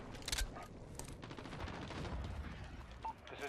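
Rapid gunfire in Call of Duty Modern Warfare on the Azhir Cave map: a string of close, sharp shots early on, then a rolling rattle of more distant fire with a few isolated cracks.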